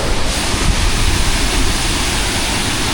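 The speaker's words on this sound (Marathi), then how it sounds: "अशक्य सुंदर असा हा आपला रानपाट उक्षी धबधबा" Ukshi Ranpat waterfall in the rain gives a loud, constant roar of rushing water, broad and unbroken, with no voices.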